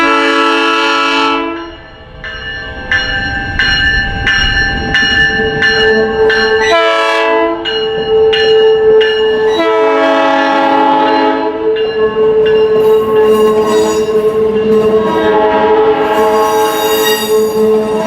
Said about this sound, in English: We decided to head for Michigan City, where we would catch the South Shore's bi-level commuter cars running through the street on westbound train